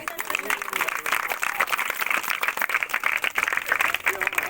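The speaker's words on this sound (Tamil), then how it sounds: "ஊராட்சி மன்ற தலைவர் வராருங்க கைத்தட்டி" Applause greeting a village panchayat council president at a church Christmas celebration, a dense, steady wash of many hands clapping throughout, fairly loud and continuous with crowd noise mixed in.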